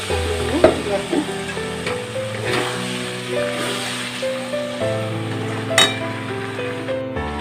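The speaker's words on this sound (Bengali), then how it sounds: "এবার আমি জল ঢেলে দিচ্ছি, অল্প" Chickpea and potato curry frying in a pan, with a splash of water poured in and a steady sizzle, stirring scrapes and clinks of a utensil against the pot at close range, without talk.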